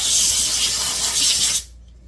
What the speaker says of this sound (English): I'm going to spray a little bit of penetrating oil in here too